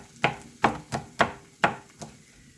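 A knife chops on a cutting board in six firm, evenly spaced thuds, close and clear with no talking.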